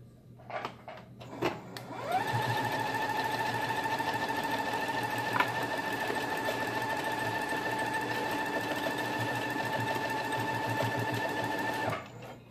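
A sewing machine stitches a seam on a Christmas pillow, starting after a few handling clicks and running as one continuous, even whirring hum for about ten seconds before stopping, close up with no speech.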